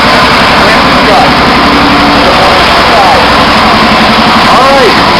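A racing lawn mower engine with its governor moved runs loud and steady at a constant drone, filling the whole stretch without pause.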